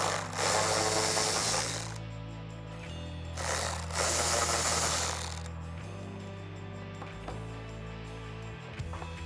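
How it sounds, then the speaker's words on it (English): Power driver with a T25 Torx bit backing screws out of a Ford F150 headlight mounting bracket, with several whirring bursts over a steady low hum, close and without talk. "Taking your T25 Torx bit, remove the 3 screws on the bottom side of that mounting bracket."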